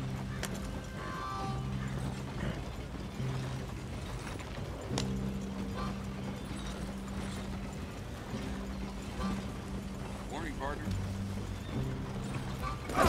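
Horse hooves clip-clop at a fast pace through a town street in Red Dead Redemption 2, a wagon in tow, steady rhythmic beats mixed with game music and mechanical rattles, with someone talking over it.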